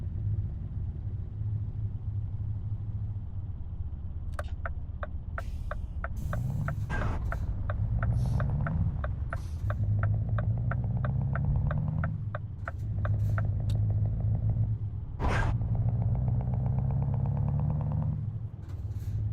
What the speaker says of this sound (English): You may hear that engine rumble.